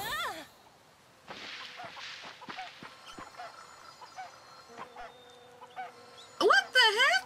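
Chickens in the farming game Fae Farm cluck and squawk in a flurry of short, honking calls while flapping, fairly close, over faint game music, with a voice speaking briefly at the start and the end.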